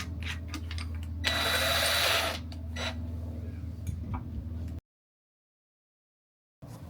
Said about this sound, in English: So I might have to go ahead and drill up a little bit.